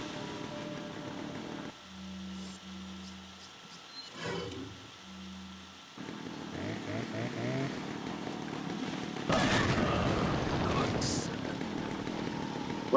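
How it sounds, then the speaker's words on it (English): A chainsaw revs in Resident Evil 4 on the Wii, its engine snarling and roaring amid game effects and bursts of tonal game sound, moderately loud and rising toward the end. "You can find the chainsaw still going though."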